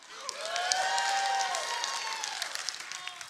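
A live audience at a Christmas-themed comedy show cheers and claps after voting for hot chocolate over eggnog, a dense, steady burst of applause with whoops and shouts running for several seconds.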